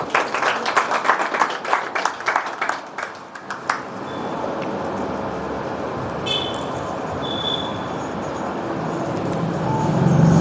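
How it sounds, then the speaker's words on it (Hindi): An audience claps together in applause for a few seconds, the dense clapping then thinning into a steady broadband wash of room noise. The hall belongs to a spiritual talk in Hindi. "शाबाश, इनके लिए ताली हो जाए। तालियां।"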